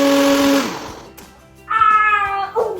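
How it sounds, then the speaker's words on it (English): A blender whirs loudly through a tofu mixture for vegan biscotti, its motor pitch sliding down as it slows, then a second short burst revs up again. "we're just going to blend this up really quick"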